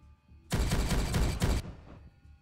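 A roughly one-second burst of rapid gunfire in the Warhammer 40K Regicide strategy game, loud and close, dense repeated shots cutting off sharply, over quiet background music.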